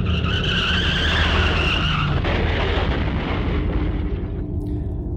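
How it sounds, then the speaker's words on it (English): A car crash in the game Corpse Party Blood Drive: a loud, drawn-out tire screech that breaks into a heavy crunching impact and rumbling debris, close and intense, fading at the end. "Another car accident, again right outside my door."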